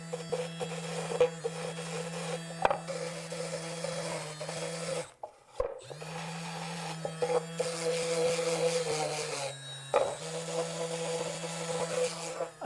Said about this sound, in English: I'm going to just take those off here with my Milwaukee.